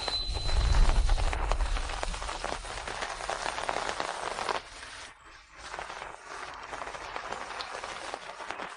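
Steady rain pours outdoors on a city street at night, a dense hiss that fills the scene, dipping briefly midway before resuming at the same level.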